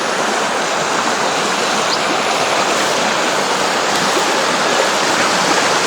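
Loud, constant rushing water roars close by without pause, a dense wash of floodwater flowing through a rice field.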